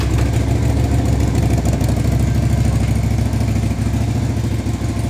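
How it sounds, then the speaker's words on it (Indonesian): A motorbike engine idles close by with a steady, rapid low putter that fades slightly at the end, no voices over it. "Kita naik motor ini"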